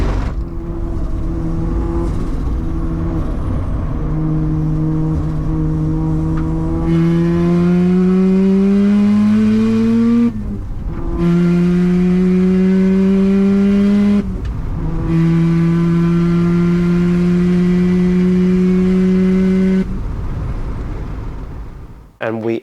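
A 400-horsepower 13B rotary engine in a Mazda RX-7 pulls hard through the gears on a track, its loud, buzzy note climbing steadily in three long rising sweeps with brief dips at each shift, close and continuous.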